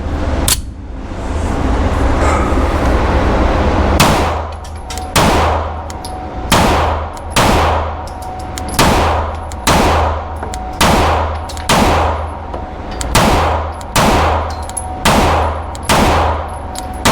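Gunfire on a target range, fired in quick pairs of shots at several targets; a dozen or so loud, sharp reports ring out with short pauses between pairs after a few seconds of steady background hum.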